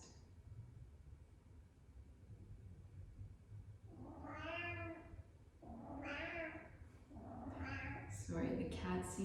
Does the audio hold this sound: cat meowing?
yes